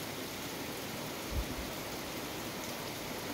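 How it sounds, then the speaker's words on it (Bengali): Heavy rain pours at seven in the morning near the end of the monsoon month of Bhadra, a dense, even hiss with no gaps and one soft low thud partway through. "এখন কিন্তু ভালোই জোরে বৃষ্টিটা হচ্ছে।"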